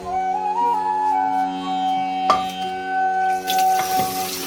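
Water runs steadily from a tap into a vessel for heating tea, a sustained pouring tone with a brief splash midway and a brighter rush near the end.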